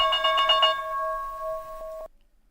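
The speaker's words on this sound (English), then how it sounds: "I'm gonna ring the bell." A bell rung during a live day trading stream of NQ futures: a bright, sustained metallic ring with strong harmonics, struck and fading over about two seconds, then cut off into silence.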